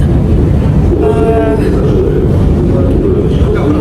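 A Saint Petersburg metro train rumbles steadily throughout, a loud continuous low roar of the moving carriage with a brief higher whine partway through, heard from inside the car.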